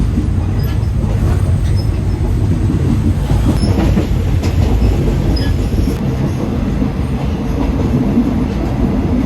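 Steady, loud rumble of a train running on rails, with faint rhythmic clatter and occasional metallic squeals, continuous throughout with no talking.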